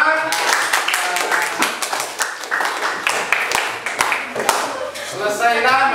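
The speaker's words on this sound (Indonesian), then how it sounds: "Baik, tepuk tangan untuk Anda semua." Seventh-grade students in an Indonesian classroom clap their hands together at the end of a lesson, a steady dense patter of many hands lasting several seconds, with some voices mixed in.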